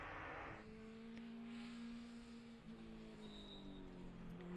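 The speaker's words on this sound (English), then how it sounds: "Up through the gears for him towards the turn 4 braking zone." A touring race car accelerates up through the gears on a racetrack approaching a braking zone, its engine note droning steadily and dropping in pitch at each upshift, heard loud and continuous with no talk over it.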